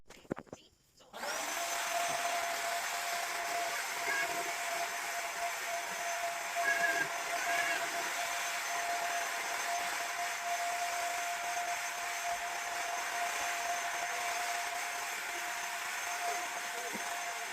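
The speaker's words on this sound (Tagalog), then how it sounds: "Kaya magbabacuum ako. So, yan. Samahan niyo ako mag-vacuum." After a brief quiet start, a vacuum cleaner switches on and runs with a steady whining hum, close by and continuous to the end.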